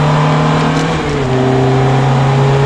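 A Ferrari F430 F1 engine revving steadily louder as it accelerates, loud and close, with a continuous droning hum.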